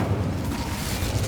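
An Incendio fire spell bursts in Hogwarts Legacy with a loud, low rumbling blast that roars steadily for about a second.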